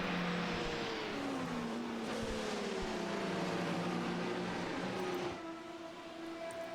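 Audi and Porsche sports cars race at Spa, Belgium, their engines roaring loudly and continuously as pitches rise and fall through gear changes and passes, with layered cars overlapping before the sound eases slightly near the end.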